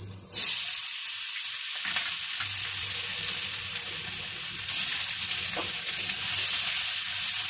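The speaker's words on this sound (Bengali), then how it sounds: "এবার দিয়ে দেব পেঁয়াজ কুচি" Chopped onions dropped into hot oil for a cauliflower and fish roe curry, a loud continuous sizzle starting suddenly and holding steady, close and alone.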